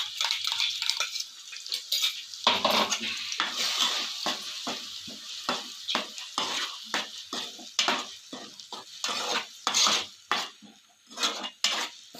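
Onion paste fries with green chilies in a pan for a country crab curry. A close, steady sizzle runs under repeated sharp scrapes and clinks of a spoon stirring against the pan, with no talking.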